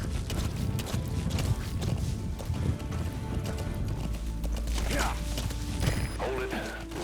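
Horse hooves clip-clop in a steady walking rhythm in the video game Metal Gear Solid 5, close and clear, with a voice talking over them.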